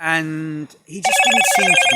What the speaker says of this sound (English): Excuse the phone, the alarm.